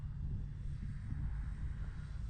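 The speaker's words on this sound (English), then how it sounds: "Let's do a nice slow pass here, right between me and the clubhouse." An E-flite Valiant 1.3 m RC model airplane makes a slow, low pass past a flying-field clubhouse in a crosswind, its motor a steady, even drone that holds throughout without talk.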